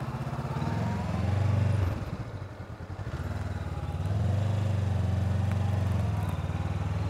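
A motorcycle on a slow-speed training plateau idles, then pulls away gently, its mid-pitched engine chugging close by with a brief dip and a steady throttle rising again.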